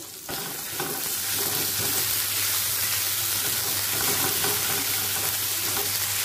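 Cubed potatoes and pointed gourd frying with salt in a pan make a loud, continuous sizzle with some stirring and a steady low hum beneath, uninterrupted and close.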